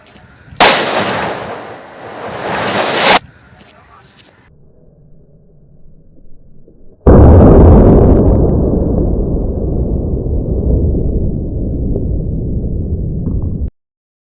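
Diwali firecrackers, including a large Lakshmi cracker, go off close by in two loud, sustained crackling bursts: a short one lasting a few seconds, then a quiet gap, then a longer, dense string of rapid pops that stops abruptly.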